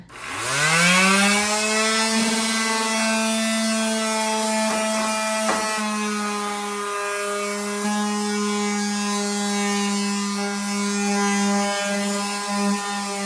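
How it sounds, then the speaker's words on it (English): A power sander works on wood during a kitchen makeover, its motor spinning up into a steady whining hum that holds for the whole stretch, with a couple of brief clicks. "As I sand it and then I wipe it off, I see that really beautiful wood."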